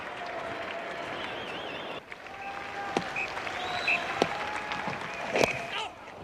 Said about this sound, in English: a big cheer here for Glenn McGrath